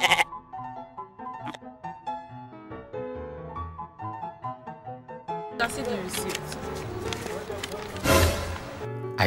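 Goats bleat repeatedly amid shuffling and handling noises, followed by a louder, busier stretch with people talking nearby.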